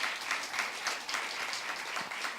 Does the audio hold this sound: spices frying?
no